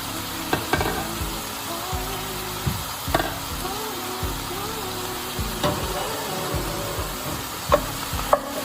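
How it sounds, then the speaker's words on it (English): Peppered steak sizzles steadily in a pan, with a constant frying hiss and repeated scraping clicks and knocks of stirring on top. "And our meat is still cooking a little bit."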